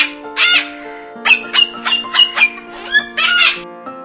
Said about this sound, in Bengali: ঘয়ে ঘুঘু পাখি।